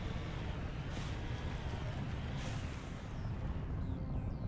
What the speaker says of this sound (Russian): А, это реактивный двигатель, что-то я думал,